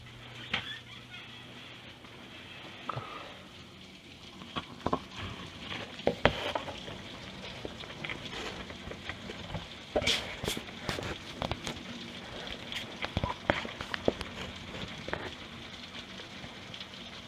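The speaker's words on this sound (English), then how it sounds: "it's raining and storming pretty bad here" Heavy rain falls during a thunderstorm, heard from indoors in a room. It makes a faint, steady patter with scattered sharp taps, and no distinct thunder stands out.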